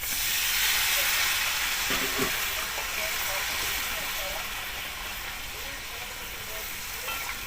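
Duck meat sizzles and hisses steadily in a pot after water is poured in during village-style frying, a soft bubbling frying sound that slowly fades, with faint stirring and no talking.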